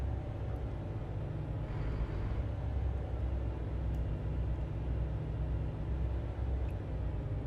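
Steady low engine drone of a Volvo VNL semi truck driving in American Truck Simulator, a constant, fairly quiet rumble with no speech, from a trip between Texarkana and Odessa, Texas.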